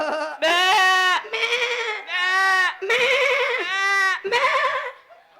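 A person's voice imitates a lamb bleating, with six loud, close, wavering cries in quick succession, each strained and nasal with brief gaps between.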